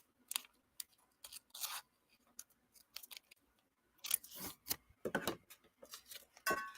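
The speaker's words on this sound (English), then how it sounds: "So I take my scissors." Scissors snip across a sheet of material in a run of short, crisp cuts, some quick and close together, others spaced out, with brief quiet gaps between them and no voices.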